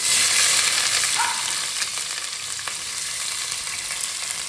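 Onions sizzle in hot oil with cinnamon, cloves and peppercorns in a pressure cooker, a loud steady hiss with a few stirring scrapes, close up and without talk.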